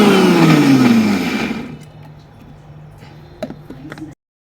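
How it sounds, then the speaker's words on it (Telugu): A kitchen mixer grinder blends boiled, peeled raw banana for a curd pickle, whirring loudly for under two seconds before winding down and stopping, leaving quiet handling noises. "ఉడకబెట్టుకొని తోలు తీసుకున్న అరటికాయని మిక్సీ పట్టేసుకున్నాం"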